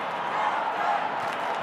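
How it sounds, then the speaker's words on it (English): Crowd at a Carlton v Fremantle AFL football match in 2020, a broad sustained roar from the stands, loud and unbroken, with no distinct voices standing out. "Listen to this crowd"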